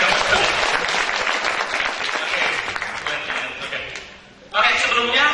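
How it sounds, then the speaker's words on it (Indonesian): Audience at a business training seminar claps loudly for a few seconds, then fades. A voice begins speaking right after the applause. "Tepuk tangan lah yang paling meriah."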